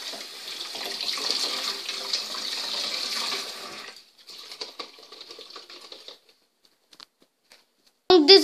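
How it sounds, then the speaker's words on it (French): Tap water running over vegetables being rinsed for homemade meatballs, a steady splashing rush for about four seconds, then quieter intermittent trickles and clatter before a sudden loud burst at the end. "Puis, vous reprenez de l'eau et vous rincez le tout vite fait comme ceci."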